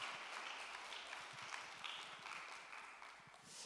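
A church congregation at a Sunday worship service gives a sustained round of applause, a dense steady clapping that fills the room for several seconds with no talking.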